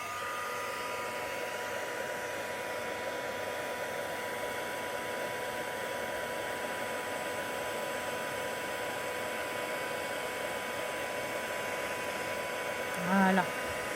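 A heat gun blows hot air steadily for a craft project, a constant loud whooshing hiss that runs unbroken before a brief soft click near the end.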